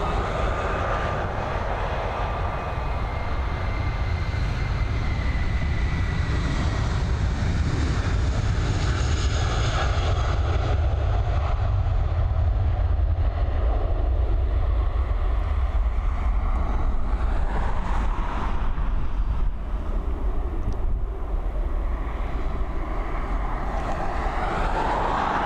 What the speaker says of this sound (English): A330 heading over to JFK